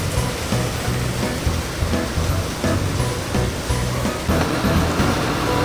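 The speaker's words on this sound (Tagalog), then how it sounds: "Medyo lumakas ang ulan." Steady, heavy rain at Aquamira Resort makes a dense, loud wash of hiss and patter that stays constant throughout, with no voices.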